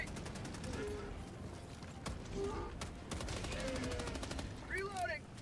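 Rapid automatic gunfire from the video game Helldivers rattles in repeated bursts, with game voice lines and effects mixed in throughout.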